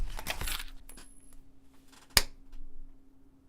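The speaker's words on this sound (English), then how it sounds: "So what I'm going to do is I'm going to flip a coin." A coin is flipped and lands on a hard surface, giving one sharp metallic clink with a brief ring near the end, preceded by faint handling rustles in an otherwise quiet room.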